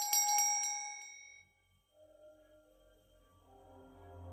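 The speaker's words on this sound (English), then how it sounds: "I rang my bell." Bell rung in a video game, a bright, close ding with a few quick repeated strikes that rings out and fades over about a second and a half, followed by low, soft ambient tones.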